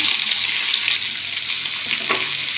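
Sliced onions drop into a pan of frying ginger and garlic for pork, bringing a loud, close, steady sizzle with a few soft scrapes and pops.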